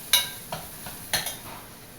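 A spoon stirs chilli powder into fenugreek seed dal in Rayalaseema style. Several soft scraping strokes ring out close over a faint, continuous sizzle, with no speech.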